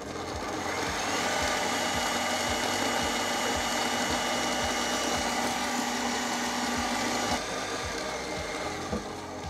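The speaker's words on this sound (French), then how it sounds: "Je commence par faire monter tout simplement la crème directement dans le batteur." A stand mixer whips plant-based cream in its bowl, a steady loud motor whir with a fast regular pulsing beat running unbroken throughout, no voices.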